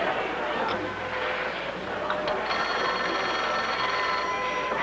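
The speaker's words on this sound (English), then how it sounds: "I'll answer the phone." An old household telephone bell rings faintly in a quiet room, a couple of short trilling bursts set against low background noise.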